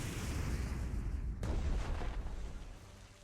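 In the naval strategy game Strategic Mind: The Pacific, torpedoes launch with a deep, rumbling burst, and a sharp second thud lands midway before the sound fades into a low roar.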